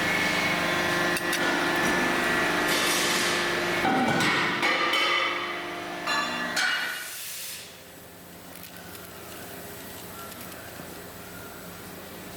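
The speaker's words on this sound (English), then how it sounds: "this machine behind me is a guillotine, and this is where we trim the edges of those discs" A factory guillotine trims the edges of T6 6061 forged aluminium discs for three-piece wheel lips and barrels. Loud mechanical clanking and hissing lasts about seven seconds, then drops to a quieter background hum.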